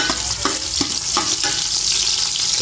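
Five pieces of duck sauté in a hot pan for duck adobo, giving a loud, continuous sizzle broken by quick, regular stirring scrapes about three times a second.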